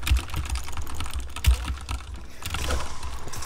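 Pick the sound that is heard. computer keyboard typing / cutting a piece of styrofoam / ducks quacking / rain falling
computer keyboard typing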